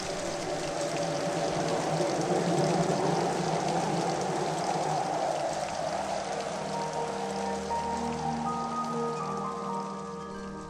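Steady rain pours down in a dense, continuous hiss with soft pattering of drops, fairly loud and even throughout, easing slightly toward the end, with no voices.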